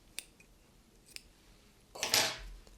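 Scissors cut yarn off a knitted sweater sleeve: two light clicks of the blades, then a louder close snip with a brief crunch, in a quiet room.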